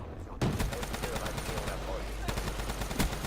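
Rapid automatic gunfire in the video game Black Ops 3 starts abruptly after a brief quiet moment and keeps going in dense, loud bursts for the rest of the stretch.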